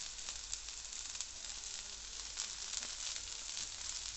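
Chopped onion frying in hot oil with ginger and garlic for Schezwan noodles, a steady, dense sizzle running throughout with faint crackles, close and alone.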